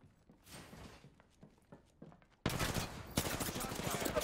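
Gunfire breaks out in a PC shooter video game, quiet scattered clicks and footsteps giving way abruptly to a loud, dense, sustained fusillade of rapid shots that continues to the end.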